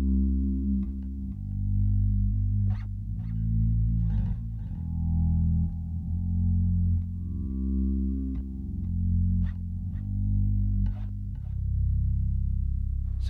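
Electric bass played through a Zoom MS60B slow-attack swell delay, notes fading in softly with no pluck and sustaining into low droning tones, a slow melodic line with faint finger noise, heard alone.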